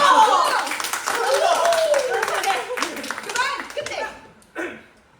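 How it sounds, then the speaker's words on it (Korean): Applause from a theater audience during a stage play, brisk clapping mixed with chuckles and laughter, fading out toward the end before a brief final burst. "조명 감독님께 박수!"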